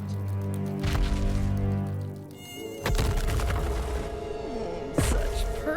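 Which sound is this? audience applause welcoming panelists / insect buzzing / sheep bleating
insect buzzing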